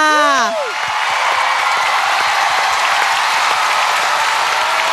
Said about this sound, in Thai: ขอเสียงปรบมือดังๆ ให้กับคุณสงกรานค่ะ